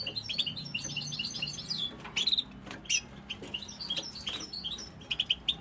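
Goldfinches chirping and twittering at sunset while bathing, bright rapid high calls in short bursts over a faint low background hum, fairly close, no talking.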